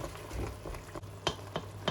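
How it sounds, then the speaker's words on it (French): A spoon scrapes the bottom of a saucepan while deglazing with red wine to loosen the cooking juices for lasagne, giving a faint sizzle with a few sharp scraping clicks near the end. "j'en profite pour bien gratter le fond de la casserole, de telle sorte à avoir tous les sucs"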